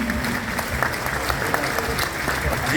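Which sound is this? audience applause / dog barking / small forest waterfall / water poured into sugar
audience applause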